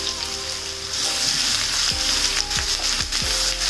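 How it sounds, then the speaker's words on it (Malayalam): Ground ginger, garlic and green chili paste sautés for Kerala-style mango pickle, giving a loud, dense sizzle up close with several scraping spoon strokes in the second half and no talking. "ഇഞ്ചിയും വെളുത്തുള്ളിയും പച്ചമുളകും കൂടെ അരച്ചതല്ലേ, അത് നമുക്ക് ആഡ് ചെയ്ത് കൊടുക്കാം. നമുക്ക് വഴറ്റി കൊടുക്കാം."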